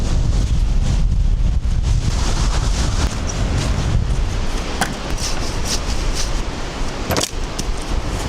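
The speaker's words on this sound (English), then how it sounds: "I can barely stand in this wind." Strong blizzard wind buffets the microphone on an exposed island, a loud continuous roar of gusts with deep rumbling low end and occasional sharp clatters, unbroken for the whole stretch.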